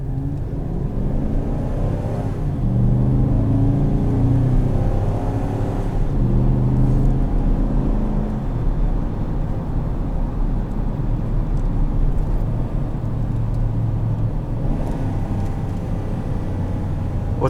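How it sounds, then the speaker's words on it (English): A 2017 Chevrolet Silverado 2500HD pickup heard from inside the cab while it rev-matches its downshifts. A deep, continuous engine drone swells and settles in pitch several times, steady and fairly loud with no talk. "what's really, really nice is it rev matches its downshifts"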